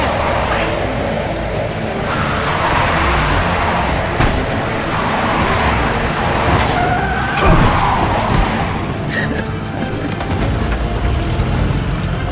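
Car engine roaring and tyres skidding during a chase in The Wolf Among Us video game, a loud continuous drive with a sharp screech near the middle.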